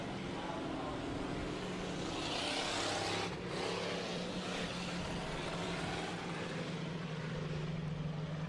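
Pure Stock race cars circling at Amsoil Speedway, a continuous distant engine roar that swells and fades as the field passes, steady and fairly muffled throughout.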